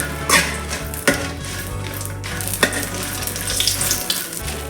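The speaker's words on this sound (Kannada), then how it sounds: "ಸ್ವಲ್ಪ ಕೊಕೊನಟ್ ಆಯಿಲ್ ಹಾಕಬೇಕು ಖಾರಕ್ಕೆ ಎಷ್ಟು ಬೇಕು ಅಷ್ಟು ಮೆಣಸು ತಗೊಳ್ಳಿ ನಾನು ಮೆಣಸು ತಗೊಳ್ಳಿ ಫ್ರೈ ಮಾಡಬೇಕು ಚೆನ್ನಾಗಿ" Red chillies frying in coconut oil in a pan, a steady crackling sizzle with a few sharper stirring knocks and a low background hum throughout.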